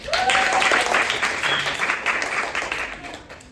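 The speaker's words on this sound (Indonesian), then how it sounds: "Kita kasih tepuk tangan dulu" Classroom applause during a third-grade civics micro-teaching session, a burst of clapping from the group that starts strong and gradually thins out, with a brief voice heard near the start.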